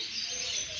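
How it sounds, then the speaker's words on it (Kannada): Local sparrows kept in an enclosure at Mysuru zoo chirp in a faint, continuous twittering chorus over a steady background hum, with no distinct individual calls standing out. "ಈ ಗುಬ್ಬಿ ಇಲ್ಲಿ ಇರೋದು ಒಳಗಡೆ ಎಲ್ಲ ಲೋಕಲ್ ಗುಬ್ಬಿ ತಂದು ಹಾಕಾರ."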